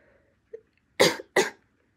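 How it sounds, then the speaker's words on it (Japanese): Two short, deliberate fake coughs about a third of a second apart, close and clear, after a faint small sound in an otherwise quiet room. "ここでわざと咳をする"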